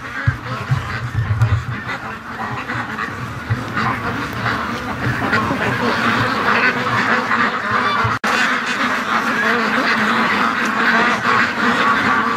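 Ducks raised in chilly Canadian weather quack steadily and loudly up close, a dense continuous chorus of overlapping calls with a brief break near the end.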